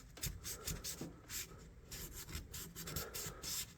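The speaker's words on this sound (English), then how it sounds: "I sanded it. Just using my 600 grit. Get down in there and I sand on it." A rusted, dented pocket knife sanded by hand with 600 grit sandpaper, quiet close rubbing strokes in a quick uneven rhythm, faint and alone.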